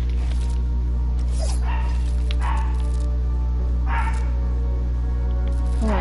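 A dog barks and yips several times, with whimpering cries in between, over a constant low hum; a voice briefly speaks.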